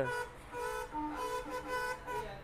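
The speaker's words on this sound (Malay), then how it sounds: "Lain macam bunyi dia punya horn." A Ford car horn honks several times in short, uneven toots, loud and close, with a brief pause between bursts.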